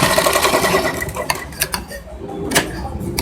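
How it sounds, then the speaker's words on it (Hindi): A sewing machine stitches a blouse seam with a close, continuous whirring drone broken by a few short clicks and knocks. "और इसी तरह से हम ये दूसरी साइड भी मैं सिलाई लगाता हूँ।"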